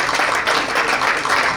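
Applause from a podcast audience after a boxing fight night: a short, dense burst of steady clapping at a fairly loud level.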